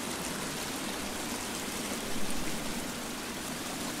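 Water from a waterfall in the survival game The Forest pours down in a dense, steady broadband rush, loud and continuous, with a brief swell near the middle and no voices.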